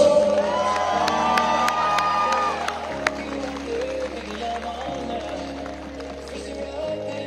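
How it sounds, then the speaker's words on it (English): An audience at a corporate annual awards ceremony cheers and whoops loudly and steadily, with tonal music playing through and the crowd noise easing slightly toward the end. "A big round of applause."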